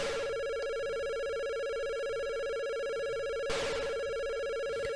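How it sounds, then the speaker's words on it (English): Galaxian's flying enemies in the Famicom version of the video game, a steady electronic trill like a 1980s telephone bell that rings continuously and loudly, alone with no talk. "Even if the flying enemies do sound like a 1980s telephone in this Famicom version."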